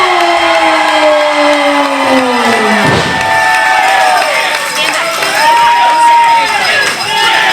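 A wrestling crowd at an independent 1CW show cheers loudly and continuously, a roaring arena wash with whoops and shouts, as an entrance theme with a falling tone plays over it.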